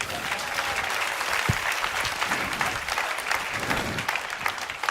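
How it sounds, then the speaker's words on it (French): Audience applause fills the whole stretch, a steady dense clapping from a crowd at a family musical storytelling show about a boy and his hot-air balloon, loud and continuous throughout. "On l'applaudit!"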